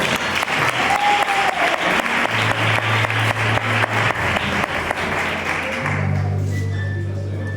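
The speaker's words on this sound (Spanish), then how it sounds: "Dadle un fuerte aplauso a la palabra." Congregation applauding in a church service, a loud, sustained wash of clapping filling the whole clip with steady rhythmic claps and some crowd noise underneath, tapering slightly near the end.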